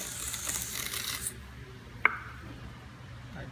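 Excess slip is scraped off a thrown clay vase with a short, close, raspy rubbing for just over a second. A single sharp tap follows in near quiet.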